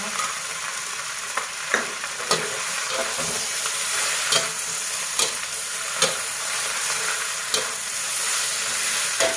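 Shiitake mushrooms and chili stir-fry in a hot pan with a continuous loud sizzle, punctuated by regular scraping clicks of a spatula tossing the food.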